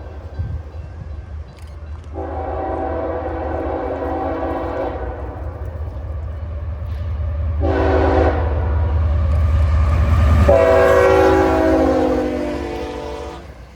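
A CSX freight train passes on the RF&P subdivision at about 50 to 60 mph. Its horn sounds loud and close in three long blasts over a steady, heavy rail rumble that builds as the train nears.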